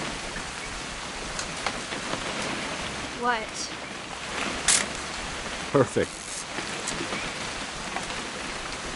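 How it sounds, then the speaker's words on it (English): Steady rain hiss in the video game What Remains of Edith Finch, a continuous wash of drops underneath brief spoken lines and a few short chirps and clicks. "It's gonna rain the whole weekend, isn't it?"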